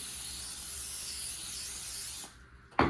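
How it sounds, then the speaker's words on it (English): A continuous hissing spray from an aerosol can of cooking spray lasts about two seconds, then stops, followed by a short sharp clatter nearby. "I'm gonna spray a little bit more around"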